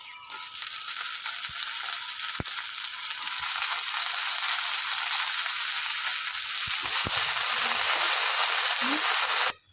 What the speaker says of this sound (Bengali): এবার শাকটা ওর মধ্যে দিয়ে দেবো, দিয়ে কষিয়ে নেবো একটু সময়।